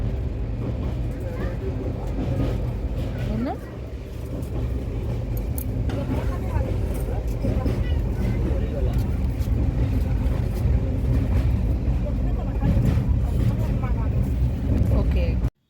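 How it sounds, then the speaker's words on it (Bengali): A boat moves along a river swollen in the rainy season, its motor droning loudly and steadily throughout, with voices at times. "সুন্দর নৌকা চলছে"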